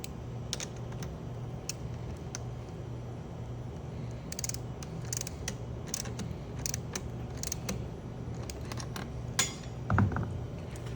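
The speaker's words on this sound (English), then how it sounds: "so I can tighten it with the crescent and with the ratchet" A ratchet clicks in quick runs while a crescent wrench braces a stainless steel 4 x 40 membrane housing being tightened, with faint metallic clinks and a low background hum.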